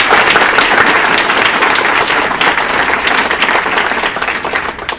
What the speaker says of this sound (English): I'm going to pause for a round of applause for our panelists.